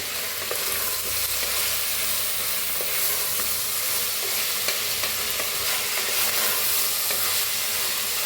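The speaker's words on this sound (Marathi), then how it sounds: "टमाटर टाकूया, पनीर मिक्स करूया।" Paneer masala with potatoes and tomatoes is stirred in a hot pan, giving a dense, continuous sizzling hiss with soft scraping of the spoon throughout.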